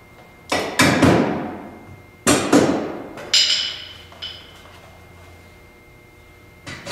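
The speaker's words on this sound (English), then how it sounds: "Or tap them with a hammer," A hammer taps the bed-mounting bolts out of a Polaris Ranger 5.5 during a cage kit install, giving several sharp metallic strikes in uneven pairs, close and ringing, followed by a late single hit.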